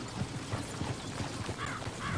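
Horses in Red Dead Redemption 2 clop along in a steady rhythm of hoofbeats over a dense background of game ambience.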